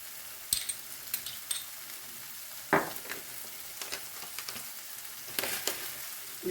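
Meat sizzling in a frying pan with adjika, Italian herbs and sweet paprika, a quiet steady crackle with occasional stirring clinks and scrapes, close and without talk.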